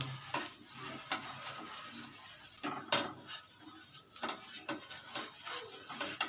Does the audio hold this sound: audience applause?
no